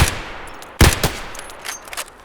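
Rifle gunshots in Escape from Tarkov: one close sharp crack at the start, a louder loud report near the middle, then fainter distant shots and echoing tail.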